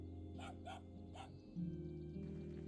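A dog in a video game barks three times in quick succession, short clear yips over a steady game music bed, followed by a low sustained tone.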